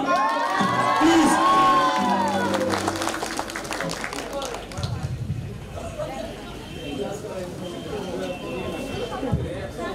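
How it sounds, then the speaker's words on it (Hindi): An audience at a grand seminar bursts into loud applause and cheering that fades after a few seconds into crowd chatter and scattered voices. "जोरदार तालियां फिर से एक बार प्लीज"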